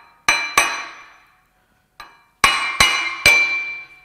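Sharp metallic taps on a part in a Ford 4.9L 300 straight-six engine block: two ringing strikes, a faint one, then three more, each decaying with a clear clang.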